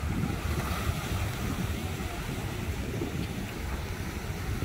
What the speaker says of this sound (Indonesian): Memang ombak dia agak tinggi.